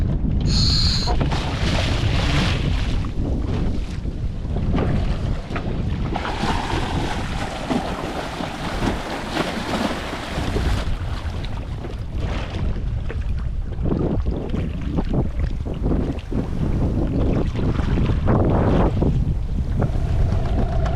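A small dinghy out on open water near sailboats, with heavy wind buffeting the microphone and waves sloshing against the hull steadily throughout.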